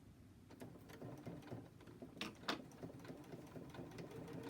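A sewing machine stitches one more seam on a tech caddy, a steady close mechanical whir with a few louder clicks partway through, running without talk.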